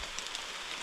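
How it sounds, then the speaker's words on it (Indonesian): Light drizzle patters steadily on foliage in a dense forest, a soft continuous hiss of small raindrops heard close and fairly faint, with no voices. "Ini sampai saat ini masih rintik ya."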